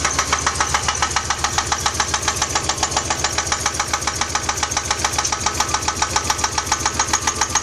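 A 1993 Geo engine running with a steady, rapid mechanical ticking from a plugged lifter that can't get oil, the tapping loud, close and constant over the idle with no talk.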